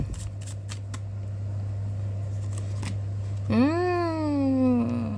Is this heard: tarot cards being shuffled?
yes